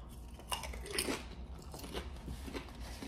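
Quiet, close crunching of crispy fried pig lips between the teeth, a few crisp bites followed by softer chewing, with no talking.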